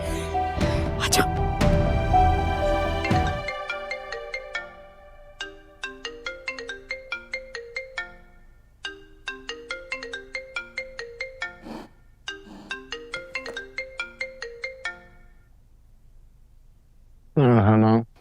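A mobile phone ringtone for an incoming call plays a repeating melodic pattern of bright tones in several rising bursts, following a louder musical passage and ending with a brief noisy burst.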